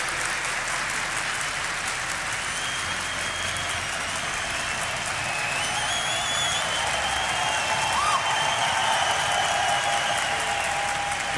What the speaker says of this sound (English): And now the crowd's getting into it.